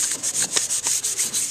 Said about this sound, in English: he is sanding, so it's nice and smooth